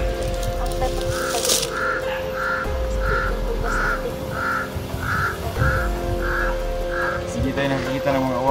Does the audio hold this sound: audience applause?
no